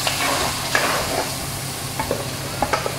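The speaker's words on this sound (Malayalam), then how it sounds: "നന്നായിട്ട് മിക്സ് ചെയ്യാം." Fish curry masala with ground paste and tomato sizzling and frying in a pan while being stirred, a steady close hiss with scraping stirs throughout.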